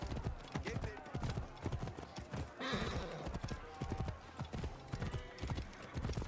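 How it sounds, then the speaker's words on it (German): A horse in the video game Assassin's Creed Origins whinnies while its hooves clip-clop in a steady, close rhythm, with a louder neigh midway, under game music and voices. "Das ist ja ein hübsches Pferd."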